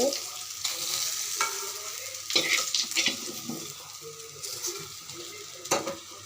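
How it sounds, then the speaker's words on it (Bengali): Pieces of rui fish fry lightly in oil in a pan, a steady sizzle broken by clinks of a spatula against the pan as the pieces are stirred and lifted out. "আমি প্রথমে মাছগুলো হালকা ভাজি করে নিয়েছি আর উঠিয়ে নিচ্ছি"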